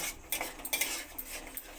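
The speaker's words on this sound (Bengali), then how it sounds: "চারমগজ, কাজু আর পোস্ত বাটাটা দিয়ে আবারও কষিয়ে নেব।" Potato curry (aloo dum) being sautéed with a ground paste of melon seed, cashew and poppy seed, heard as close, irregular clinks and scrapes of a spoon against the pan, alone without talk.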